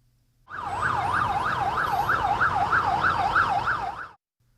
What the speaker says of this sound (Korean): 불 꺼진 도로에는 소방차 경적 소리와 함께 불빛만 번쩍입니다